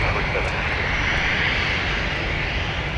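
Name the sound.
Airbus A320 airplane at MSP airport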